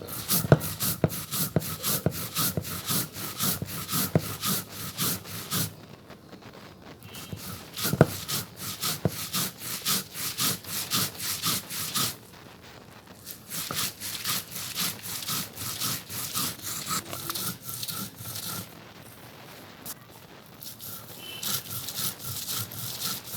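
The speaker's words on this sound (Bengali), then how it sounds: "সাথে দিয়ে দেবো কালি জিরা, দুইটা একসাথে বেটে নেব" Kharkon leaves and black cumin are ground on a grinding stone, a close, rhythmic scraping of stone on stone in repeated strokes, pausing briefly a few times before resuming, no voices.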